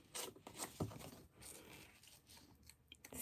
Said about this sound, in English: I kind of want the paper to start peeling back